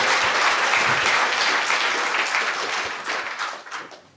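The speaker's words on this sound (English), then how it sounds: "give them a round of applause" An audience at a conference panel applauds the event's sponsors, a full, even wash of clapping from many people that holds steady and then thins out and fades within a few seconds.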